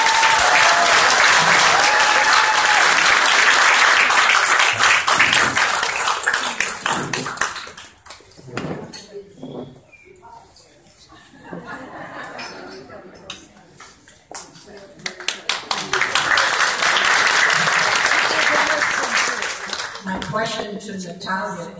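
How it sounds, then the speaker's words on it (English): Audience applause at a women of distinction award ceremony honoring a community volunteer, loud sustained clapping that fades midway under a voice, then swells back to full strength near the end. "If you could just give a round of applause to Ms. Norma."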